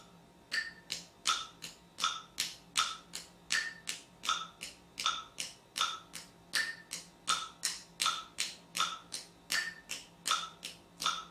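Drum kit groove with the right-hand stick playing double time, a steady stream of crisp, evenly spaced clicks and taps over a quiet background.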